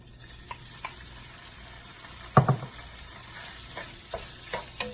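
Marinated chicken added to coconut oil for a chicken stew gives a soft, low sizzle broken by scattered spoon and pan clacks, with one louder cluster of knocks midway, close and fairly quiet.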